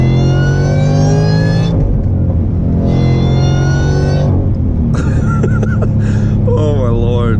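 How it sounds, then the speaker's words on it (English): A Roush-supercharged Ford Mustang revs up in bursts, its high supercharger whine rising and falling loudly alongside the engine roar, with brief pauses between pulls and people chuckling and talking over it. "it's really cool to hear that actual supercharger whine"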